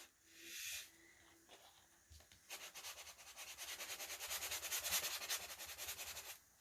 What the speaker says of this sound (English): I'm going to sand across this washi tape.